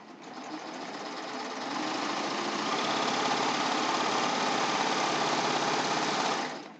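Serger sewing machine running steadily with no fabric for several seconds, a fast, even mechanical hum that ramps up slightly and then stops.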